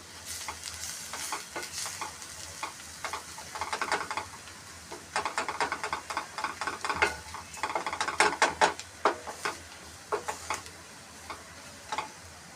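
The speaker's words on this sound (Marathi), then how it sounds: "मसाल्या सुक्या मसाल्याला आपण छानपैकी मस्त परतून घेणार आहोत स्लो गॅसवर आपण हे मसाले परतून घेणार आहोत" A dry spice masala with turmeric is sautéed over a low flame, giving a soft sizzle with bursts of rapid ticking and scraping as the spices are stirred. The sounds are close and fairly quiet, and no one speaks.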